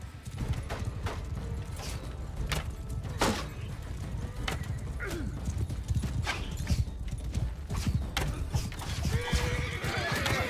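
Horses gallop in the Mount & Blade II: Bannerlord battle, with steady clip-clop hoofbeats and occasional neighs and whinnies over a busy din, loud and continuous throughout.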